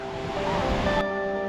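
A waterfall in Jiuzhaigou, heard as a steady broadband rush of falling water with a constant, even roar and no pauses, filling the brief moment without any voices.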